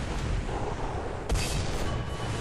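A single tank cannon shot in War Thunder, fired at a KV-1 tank, one sharp boom rising out of a constant loud rumble of engine and battle noise.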